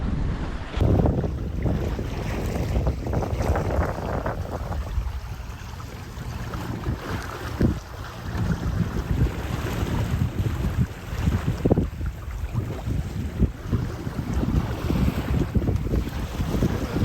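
A MacGregor 26 sailboat sailing under sail near the Channel 5 bridge in the Florida Keys, with steady loud wind rushing over the microphone, water and hull noise churning underneath throughout, and no voices.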